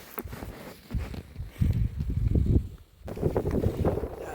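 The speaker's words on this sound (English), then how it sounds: "That wind is pretty strong." Strong winter wind gusts across an open outdoor wilderness campsite in the Boundary Waters near Ely, Minnesota, buffeting the microphone in uneven surges with a brief lull before rising again.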